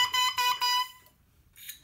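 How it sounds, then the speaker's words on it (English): A double reed under repair sounds a bright buzzing crow, three short loud bursts in quick succession followed by a pause and a fainter fourth burst, played alone. "I almost get a crow already in the beep"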